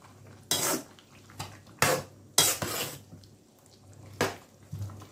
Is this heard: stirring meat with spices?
yes